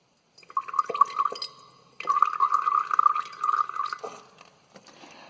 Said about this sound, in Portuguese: E no terceiro copo, nós vamos colocar um pouquinho de vinagre.